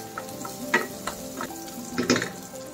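Tomatoes hit a hot pan and fry with soft, close sizzling and a few light stirring clinks and scrapes, quiet and alone.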